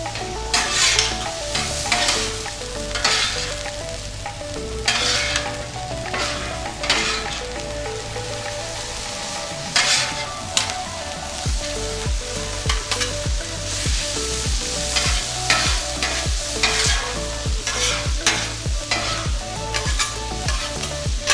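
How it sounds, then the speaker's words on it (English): Carrots stir-fried in a pan for egg roll in a bowl sizzle steadily, while a utensil scrapes and clinks against the pan in frequent bursts over the frying. "Now would also be a good time to throw in our carrots."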